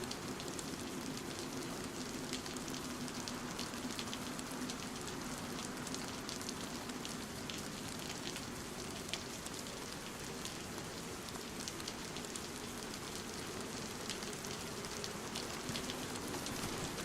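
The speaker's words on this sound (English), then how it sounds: "all I can hear is the rain" Steady rain pours in the video game setting of Chernarus, a dense, continuous hiss of drops on surfaces, even and unbroken throughout with no voices.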